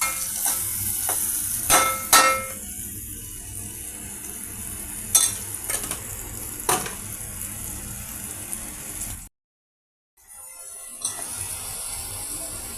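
Taro pieces frying with spices in a pan, a steady low sizzle with occasional sharp stirring scrapes and clatters, briefly cutting to silence before the sizzling resumes.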